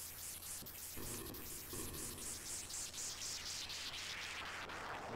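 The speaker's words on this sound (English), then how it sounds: "I don't know what's going on with the white noise sound effects." Retro video game white noise sound effects, a continuous hissing static wash with rhythmic pulsing swells, loud and steady with no talking over it.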